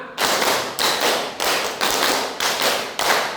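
A class of students claps a counted rhythm pattern, six sharp loud bursts of hand claps at a steady beat, close and without talk.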